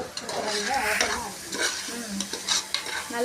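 Tomatoes being sautéed and stirred in a pan for Sunday biryani, a steady close sizzle broken by repeated scraping stir strokes, with no talking.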